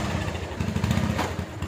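A parked motorcycle's engine runs steadily nearby, a continuous throbbing idle with a rough, even rhythm and no talk.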